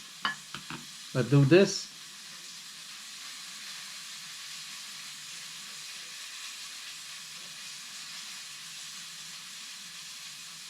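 Catfish fries in a pan on a home stove, opening with a few brief clattering knocks and then settling into a steady, soft, even sizzle that continues unbroken.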